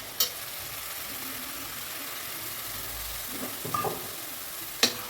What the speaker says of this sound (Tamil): அது இருக்கும், நல்லா டீப்பாக ஃப்ரை பண்ணிக்கலாம்